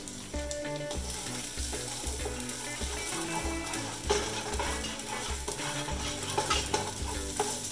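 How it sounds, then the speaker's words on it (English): Garlic and tomato paste cooking in a pan for an Italian Sunday sauce, a steady sizzle with a stirring spoon scraping in a regular rhythm, with background music throughout. "right when your garlic starts to get cooking, you got that tomato paste in there"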